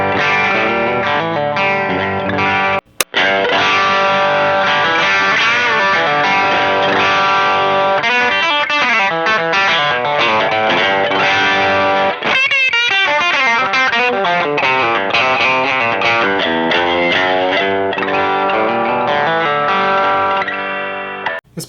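A distorted electric guitar plays sustained chords and riffs through an overdriven all-tube boost pedal, loud and continuous with a brief cut early on.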